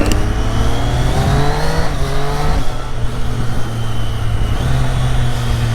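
A Triumph Street Triple 765 RS motorcycle engine revs steadily and loudly, its pitch rising and dropping through gear changes with a constant mechanical drone throughout.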